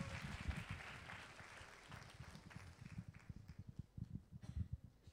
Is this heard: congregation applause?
yes